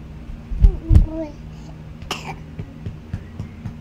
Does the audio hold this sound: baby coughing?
yes